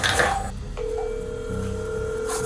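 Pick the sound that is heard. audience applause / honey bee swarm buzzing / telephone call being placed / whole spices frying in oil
telephone call being placed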